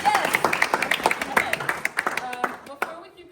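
A group of visitors on an Indiana Bible College campus tour claps hands together in a brief round of applause, a dense patter of sharp claps close by that thins out and trails off after a few seconds.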